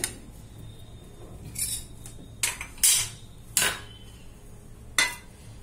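Ajwain seeds and salt are mixed together in a bowl with a spoon, producing a few separate sharp metallic clinks and scraping taps, close and quiet, with no talk.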